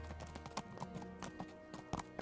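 Horse hooves clopping in Kingdom Come: Deliverance, a steady series of distinct hoofbeats at walking pace, fairly close, over a soft game ambience.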